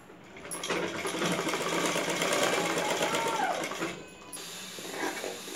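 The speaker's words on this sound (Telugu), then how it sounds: "ఈ విధంగా నెక్ అంబడి స్టిచ్ చేసుకున్న తర్వాత చుట్టూ గాని స్టిచ్ చేసుకుందామండి" A domestic sewing machine stitching around the back neck of a saree blouse, a close rattling run of needle strokes that pauses briefly near the end before restarting.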